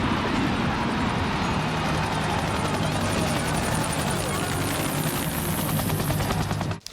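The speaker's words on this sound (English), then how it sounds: "The helicopter noise," A loud, constant helicopter roar with a fast rotor chop fills the whole stretch, close and overwhelming, cutting off abruptly at the end.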